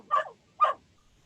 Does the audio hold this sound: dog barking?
yes